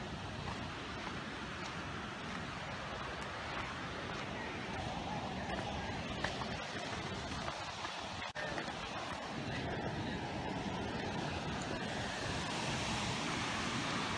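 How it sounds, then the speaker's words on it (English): A waterfall beside a Blue Ridge trail roars as a steady, broadband rush that fills the scene with unbroken sound, with faint voices nearby. "Nice waterfall."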